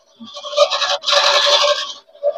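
A dirty fan inside a refrigerator showcase scrapes as it turns, giving close, rapid, rhythmic rasping bursts with a brief gap partway through.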